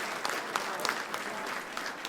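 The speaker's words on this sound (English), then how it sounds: "Big round of applause for them." A crowd at an indoor anniversary gathering of a Victorian soccer club claps steadily in sustained applause honouring former players from the 1974 Socceroos team, with scattered sharper claps standing out.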